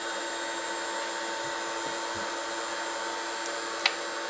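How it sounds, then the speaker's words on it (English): A noisy welding plant switched on in a kitchen drones as a steady broadband hum and hiss, with a brief sharp click near the end. "It's a very noisy welding plant I have here."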